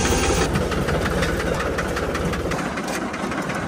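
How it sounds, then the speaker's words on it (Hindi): A tractor engine hauling a loaded trolley runs steadily toward the farm field, its loud continuous knocking rumble close and unbroken throughout, with no talking. "अब लेके चलते ट्रैक्टर ट्राली दोनों को खेत पे।"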